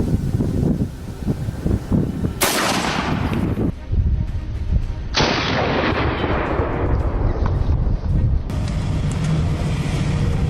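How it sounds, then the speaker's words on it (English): Gunshots from a hunter firing at a wild boar on a farm mountainside ring out loudly, sharp blasts around two and five seconds decaying into long echoing tails, with another report near the end over steady wind and outdoor rumble. "precise shots were fired"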